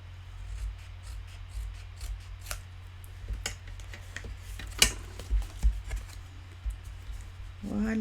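Scissors make small, close snips trimming the touching tabs of a folded paper gift box, in scattered clicks and cuts, with faint rustling and a short voice sound near the end.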